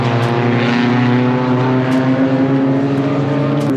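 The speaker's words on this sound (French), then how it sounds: "C'est la Formule 3 ça non?" A Formula 3 race car goes past the track with a loud, steady engine whine whose tone shifts slightly as it passes close by, with no talking.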